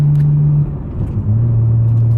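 A Nissan R34 GT-R on the Fuji Speedway track produces a steady low engine drone with a brief dip in tone midway, then settles back into a strong, even hum.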